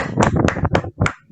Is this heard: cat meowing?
no